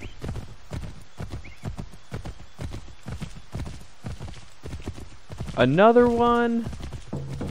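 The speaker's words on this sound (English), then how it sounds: "I'm just riding my horse." Horse hooves clip-clop in a steady rapid rhythm in Assassin's Creed 3, close and continuous, with a loud whinny near the end and a voice speaking briefly over the gameplay.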